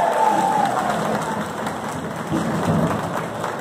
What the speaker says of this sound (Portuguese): Salve de palmas, né?